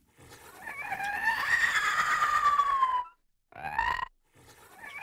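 Synthesized alien worm creature screech, a long nasal, breathy, wavering cry falling in pitch, followed by a short second shriek and the start of a third, loud and close.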